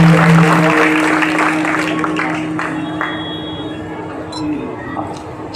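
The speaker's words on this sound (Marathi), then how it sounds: "या दोघांसाठी सर्वांनी एकदा टाळ्या वाजवून त्यांचं स्वागत करावं." An audience at a devotional kirtan gathering claps together to welcome the sound system providers. The applause is a sustained, fairly loud wash that gradually thins out, with a steady tone and some background noise underneath.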